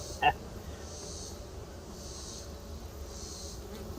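A honey bee trapped inside a beekeeper's veil during a September hive check, giving a steady faint buzz that drifts in and out, with a brief sharp bump near the start.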